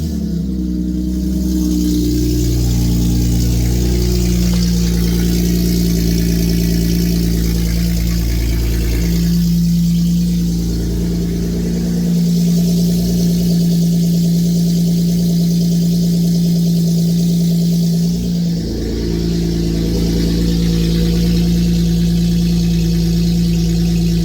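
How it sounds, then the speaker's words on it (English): Honda Accord with a redone exhaust system idling after a cold start, a loud steady droning hum with a deep low rumble and slight wavering in pitch, close up with no talking. "So let's give her a cold start."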